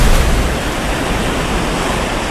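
An aircraft sinking underwater after being shot down in a VR carrier jet combat game, heard as a steady, dense, muffled rushing wash of water noise with a brief louder surge at the start, no voices.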